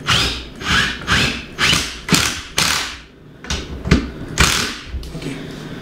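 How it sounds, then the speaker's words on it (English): A lag bolt is driven into a wall to hold a TV mount, heard as a series of close, rhythmic ratcheting bursts, each a short rasping turn separated by brief pauses. "Okay, so here goes the first lag bolt."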